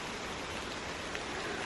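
Steady outdoor rain falls on a walking path at Chateau de Lalande, a dense, even hiss with no pauses, close and moderately loud, with no voices.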